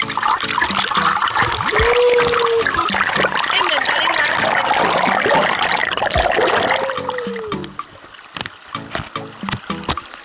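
Clear stream water at a forest resort rushes and splashes continuously at close range, with people talking and moving about over it, quieter trickling toward the end.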